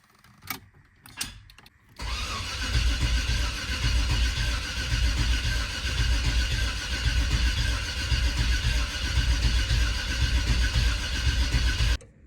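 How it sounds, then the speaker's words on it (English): A Holden VK Commodore engine cranks and catches after a couple of short bursts, then settles into a steady, loud idle that runs for about ten seconds before cutting off, likely without oil pressure. "We're gonna run the car for a little bit."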